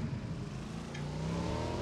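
A vehicle engine in the video game PUBG, a steady low motor drone that rises slightly in pitch and loudness, close and continuous with no talking.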